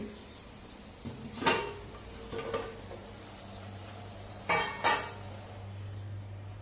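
A lid lifted off a pot of steamed cabbage vadi batter in a home kitchen, giving a few faint metallic clinks and scrapes spread over several seconds against a quiet background.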